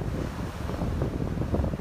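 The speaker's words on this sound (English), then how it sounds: "It is pretty windy out here today" Wind gusts across a beach in a steady, rough low rumble of buffeting air, close and unbroken through the short stretch, with no voices.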